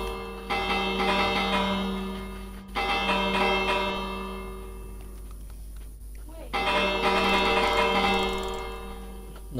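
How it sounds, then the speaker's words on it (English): A bell rings in the Minecraft video game in two or three long, resonant bursts, alternating with quieter stretches under faint background game sound. "But I just heard a bell."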